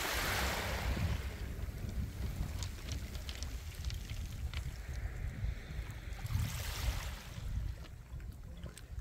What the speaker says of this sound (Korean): 파도 소리 봐.